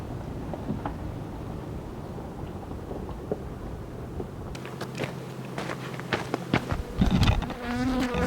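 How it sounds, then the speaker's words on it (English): Many honeybees buzzing around a valley outdoors, a steady droning hum close by, joined later by wind buffeting and scattered sharp crackles. "Lots of bees. Honeybees. There's a lot buzzing around"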